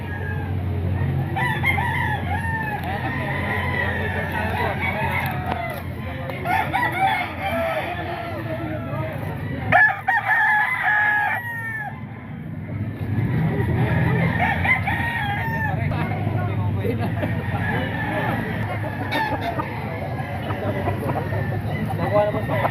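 Rooster crowing and clucking at an outdoor market stall in the Philippines, mixed with crowd noise and nearby talking that continue throughout.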